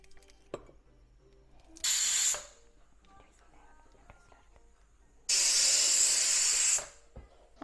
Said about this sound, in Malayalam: അങ്ങനെ നമ്മുടെ കുക്കർ ഇതേ തുറക്കുകയാണ് കേട്ടോ